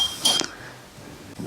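A spoon stirs red food coloring inside a glass jar, giving a quick cluster of bright clinks against the glass before fading into near silence.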